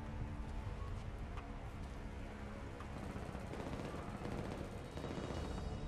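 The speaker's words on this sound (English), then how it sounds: "Are they shooting at something?" Distant, faint gunfire in the video game Mortal Kombat X crackles as a steady rattle of rapid shots under a constant noisy background, with no talking.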